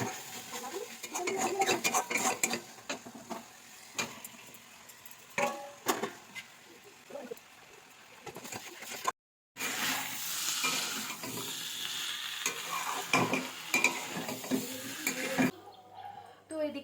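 Fish that was fried the day before being stirred around in hot oil in a wok, giving a steady sizzle with scraping and clattering of the spatula against the pan, loud and close throughout.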